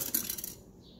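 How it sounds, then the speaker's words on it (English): A plastic fork pries the protective top off a bottle of Jax sublimation ink, giving a brief cluster of sharp plastic clicks and snaps in the first half-second before the sound falls quiet. "I'm just taking a plastic fork and opening it up."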